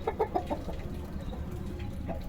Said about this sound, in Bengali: মুরগিগুলোকে কিছু বললেও মোরগটা প্রচুর রেগে যায়।